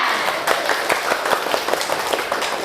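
A classroom of students claps hands together during a morning lesson, a dense, steady patter of many claps running throughout, fairly close and loud with no voices over it.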